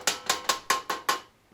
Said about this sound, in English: tapping it with my hammer here, kind of getting it adjusted